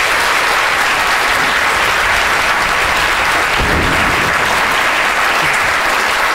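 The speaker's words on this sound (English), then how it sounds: "Big round of applause." Audience applause fills a hall at a live science show about the brain, a dense sustained clapping that stays loud and steady throughout with no break.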